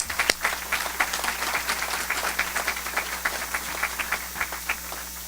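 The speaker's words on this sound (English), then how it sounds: "So give yourselves a warm round of applause." A crowd applauds steadily, many hands clapping in a dense, lively patter that holds for several seconds.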